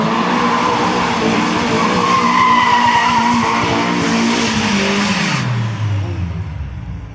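A BMW E46 drifts on a wet street in the rain, its engine roaring loud and close with tires skidding and hissing over wet pavement, then the revs drop away near the end.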